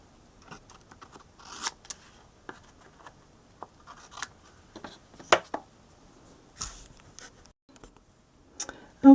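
Scissors trim a stamped paper tag with a few soft, close snips and rustles scattered through a quiet stretch.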